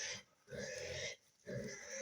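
Pigs grunting on a village farm, three close bursts of rough, throaty grunts with brief quiet gaps between them.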